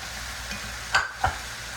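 Chicken breast and ground turkey stir-frying in sesame oil in a pan, a steady low sizzle with two brief louder clatters of stirring close by.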